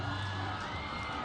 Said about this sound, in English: The Wadi fans are cheering on their team.